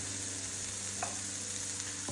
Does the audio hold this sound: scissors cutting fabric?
no